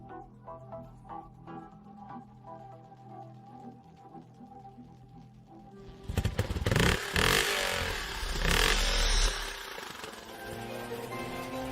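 Large motorcycle engine bursting into a loud rev after a quieter stretch, roaring and clattering for several seconds before settling to a steady running drone.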